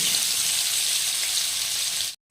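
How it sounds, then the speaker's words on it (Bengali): Chopped onion, bay leaf and dried chilli fry in hot oil with a loud, continuous close sizzle that cuts off abruptly at the end. "এই তেলের মধ্যে আমি দিয়ে দিচ্ছি তেজপাতা আর শুকনো লঙ্কা দিয়ে দিলাম কুচনো পেঁয়াজ"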